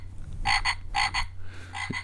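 A frog croaks in three separate raspy bursts, close and fairly loud over a low steady hum.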